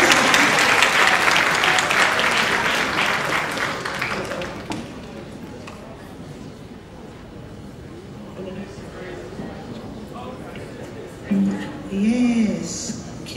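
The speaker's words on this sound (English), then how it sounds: "Clap it up, everybody." A crowd at a music award ceremony claps loudly and steadily at first, the applause thinning over several seconds into quieter room noise, with a voice speaking near the end.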